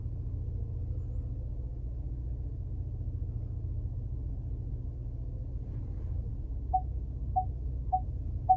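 Lincoln Navigator steadily reversing unassisted into a parking space, a low continuous rumble of engine and tires with a few soft, evenly spaced beeps toward the end.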